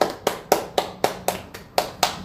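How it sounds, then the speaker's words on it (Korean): Eight sharp claps in a steady rhythm, close and fairly loud, with no voices over them, celebrating during a Korean radio-style livestream. "박수!"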